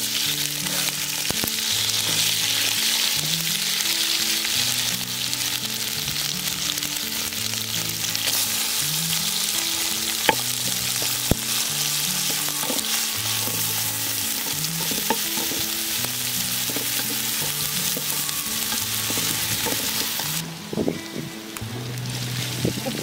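Onions fry and sizzle in a pan for a sea crab curry, a constant dense hiss with repeated rhythmic scraping and stirring strokes, close and moderately loud, easing toward the end.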